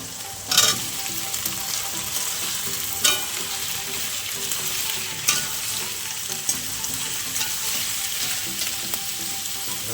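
Onion and potato frying together in a pan, close and loud, with a steady crackling sizzle and a few sharp clinks and scrapes from stirring at irregular moments, no talk.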